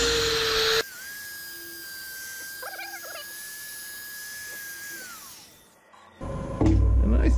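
A lathe's steady high-pitched whine while sanding a Bradford pear wood bowl runs for several seconds, then winds down, with louder scraping noise at the start and end.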